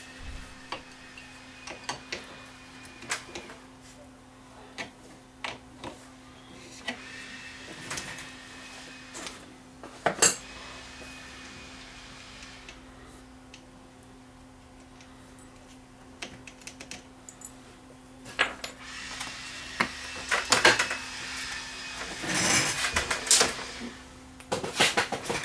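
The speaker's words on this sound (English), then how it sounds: "So let's first remove the fan from the motor." Small metal fan blade being worked off an electric fan motor shaft by hand, giving scattered light clicks, ticks and taps, quiet at first and busier near the end, with no talking.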